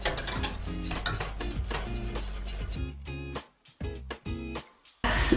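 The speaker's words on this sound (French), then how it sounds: "Vous enlevez un peu du feu et vous mélangez, voilà, hors du feu, pas que ça brûle au fond." A spoon stirs thickening cream for a crêpe cake in a pot taken off the heat, giving a continuous scraping swirl against the pot with rhythmic strokes and brief gaps, close and fairly loud, with no voices.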